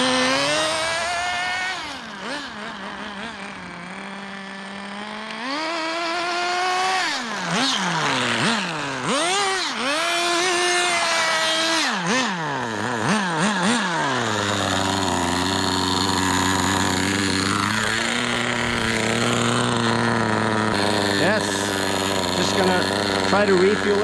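A Kyosho Ford RS500 nitro RC car engine buzzes loudly and close, its revs swooping up and down sharply before settling into a steadier, high-pitched running note.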